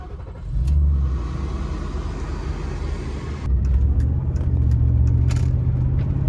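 A Mercedes E420 W124 with its 4.2-litre M119 engine drives along, a steady low engine drone from inside the car that swells as it pulls harder partway through, with a few faint clicks and no talk.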